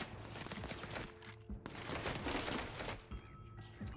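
Enemy gunfire in The Outer Worlds, rapid bursts of shots crackling in dense volleys with short gaps between them, fairly faint in the mix and with no speech over it.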